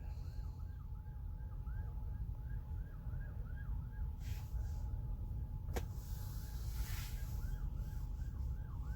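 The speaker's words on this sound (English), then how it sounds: "we have an ambulance coming by, so I don't know if y'all can hear that" An ambulance siren wails in a steady, repeating up-and-down cycle as it passes by, loud and continuous over road noise, with a couple of sharp bursts from passing traffic.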